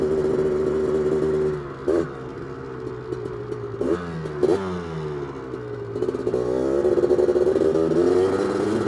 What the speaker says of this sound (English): Get her in there, power band there, full throttle.